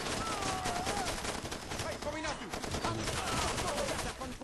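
Dense, continuous gunfire in the video game Far Cry 2, rapid overlapping shots forming a loud fusillade throughout, with a voice talking underneath.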